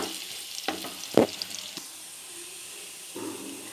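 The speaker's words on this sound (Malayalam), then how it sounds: "ഈ ചെറിയുള്ളി നല്ലൊരു ഗോൾഡൻ ബ്രൗൺ കളറാവുന്ന വരെ നന്നായിട്ട് മിക്സ് ചെയ്ത് കൊടുക്കുക" Shallots fry in a pan as they are stirred toward golden brown: a low sizzle broken by a few sharp knocks and scrapes of the spoon, then a quieter stretch of hiss.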